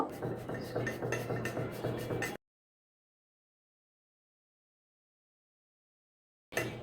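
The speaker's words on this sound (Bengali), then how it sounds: "এভাবে সবগুলো আলু আমি গ্রেট করে নিব" Boiled, peeled potatoes are grated, a close run of quick rhythmic rasping strokes for a couple of seconds, then silence, then the scraping briefly starts again.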